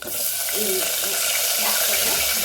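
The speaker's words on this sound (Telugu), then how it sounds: "అప్పుడు అది మంచిగా ఫ్రై అవుతూ ఉంటాయి" Brinjal curry frying in oil with turmeric, a loud, steady close-up sizzle with faint stirring clinks and a voice murmuring briefly underneath.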